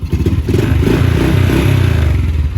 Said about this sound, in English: Here's the four-wheeler running.